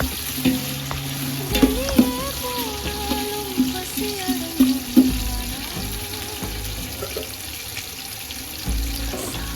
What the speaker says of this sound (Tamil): இப்போ நல்லா வெங்காயம் நல்லா செவக்கணும்.